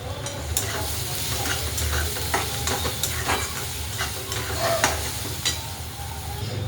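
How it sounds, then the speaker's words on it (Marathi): Green chillies and onion frying in plenty of oil, a dense, continuous crackling sizzle heard close by, with scattered pops and spoon scrapes throughout and no voices. "छान असं तळतंय आपली मिरची आणि कांदा. पूर्ण तेलातच तळतंय."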